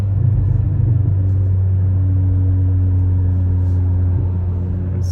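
A 2023 Acura Integra with a Remark exhaust and 27Won rear motor mount cruises on the 407 highway, giving a constant low engine and exhaust drone with road rumble, steady and unbroken.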